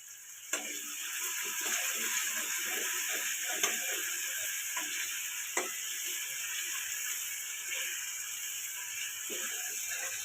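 Hot oil tempering with asafoetida, turmeric and a crushed green chili and garlic paste: a steady, close sizzling hiss runs throughout, with occasional spoon clinks and stirring.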